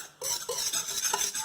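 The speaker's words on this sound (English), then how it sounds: "We're just going to whisk those dry ingredients." Dry ingredients for oil-free, low-sugar vegan lemon cookies are whisked in a bowl, giving a close, steady scraping swish with a few brighter clinks of the whisk against the bowl after a brief quiet start.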